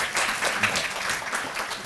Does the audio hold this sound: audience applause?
yes